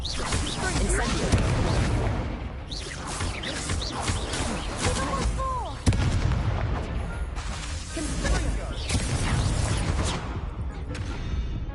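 An Incendio fire spell is cast amid combat in Hogwarts Legacy, giving dense, continuous roaring bursts and booming impacts with crackling layered over them, while a voice talks intermittently throughout.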